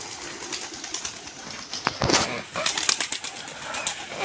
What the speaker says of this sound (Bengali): আমার মোট কবিতর হলো 39টা, 3টা সিরাজি